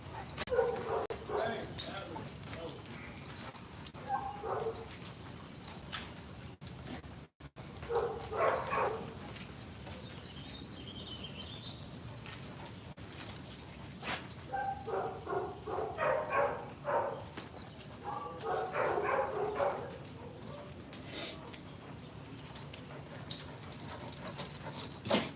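Dogs at a gate give short barks, yips and whimpers in scattered bursts, fairly faint against background noise, while a person talks intermittently.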